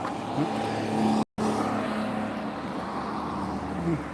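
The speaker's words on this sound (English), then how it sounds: "There goes a police officer driving past me." A police car drives past on a city street, its engine a steady mid-level hum that rises briefly as it goes by, with a short cut in the sound partway through.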